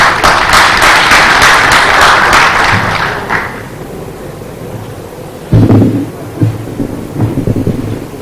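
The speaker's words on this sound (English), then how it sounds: "So please, can we have a round of applause for him?" An audience at a conference applauds as a board member is called to the stage, loud dense clapping for about three seconds that fades out, followed by scattered thumps and rustles.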